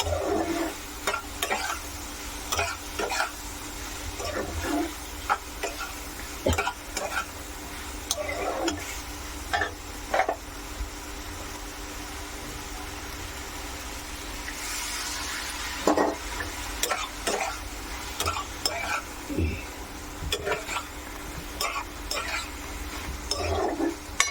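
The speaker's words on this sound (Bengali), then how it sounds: "যে পাস্তাগুলো সেদ্ধ করা আছে এই পাস্তাগুলো আমি এখানে দিয়ে দেবো" Boiled pasta goes into a hot pan and is stirred, with a continuous sizzle and repeated scraping and clinking of a utensil against the pan, close and fairly loud.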